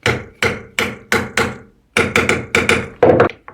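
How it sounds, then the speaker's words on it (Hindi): A hammer taps a sewing machine part during a home repair, eight or nine sharp separate knocks in an uneven rhythm with a short pause midway, close and fairly loud, no voices. "यहाँ पर धीरे से हथौड़ी मारना है"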